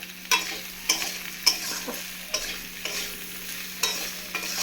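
Masala with green chillies being sautéed for a rohu fish curry with taro and potato, a steady sizzle broken by repeated sharp scraping stir strokes against the pan at a regular pace.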